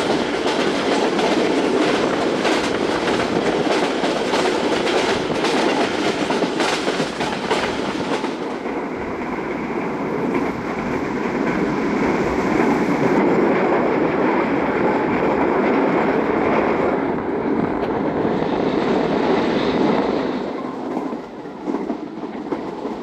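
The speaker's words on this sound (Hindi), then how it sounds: "ट्रेन पास हो रही है खैरपुर रेलवे स्टेशन" The Karachi Express thunders through Khairpur railway station, a loud, steady rush of wheels clattering over rail joints with a rhythmic clickety-clack that holds for the full stretch and only eases slightly toward the end.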